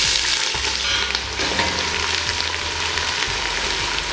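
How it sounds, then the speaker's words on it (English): Onions fry in hot vegetable oil in a pot, giving a loud, steady, close crackling sizzle with no talk over it. "So I placed the pot on heat, and I'll be adding on my vegetable oil. So our onions goes in at this stage."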